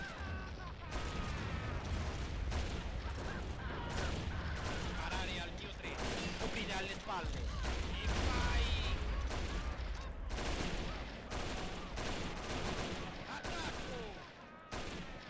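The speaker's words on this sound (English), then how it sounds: "Our artillery is doing a number on them." Dense battlefield gunfire and artillery in a WW1 video game set on the Italian front, a continuous loud barrage of overlapping shots and booms with voices mixed in throughout.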